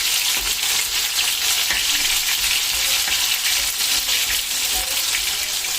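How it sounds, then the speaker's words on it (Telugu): Bitter gourd pieces deep frying in hot oil, a steady loud hissing sizzle that continues without a break, close by, with no talking. "ఇలా డీప్ ఫ్రై చేస్తున్నాను"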